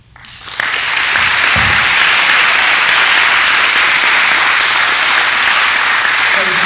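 A crowd at a school athletic signing day breaks into loud, sustained applause that swells quickly and holds steady, dense clapping with faint cheering underneath.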